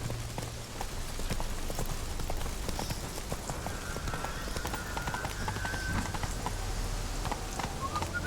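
Roach, Geralt's horse in The Witcher 3 video game, gallops along with a steady, rhythmic clip-clop of hooves close by, carried under light ambient game sound.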